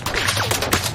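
Rapid gunfire in a video game, a dense burst of sharp cracks packed into about a second, loud and close with no talk over it.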